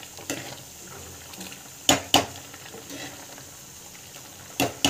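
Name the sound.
stirring tamarind curry (puli kuzhambu) cooking in pot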